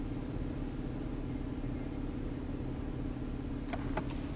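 Nissan engine idling during an idle relearn after a throttle body cleaning: a low, steady, quiet idle rumble, with a few faint clicks near the end.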